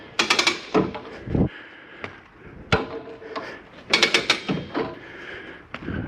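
An RV stabilizing jack on a StarCraft Venture 2407 trailer is wound by hand crank, giving irregular metallic ratcheting clicks, creaks and clunks at close range in uneven bursts.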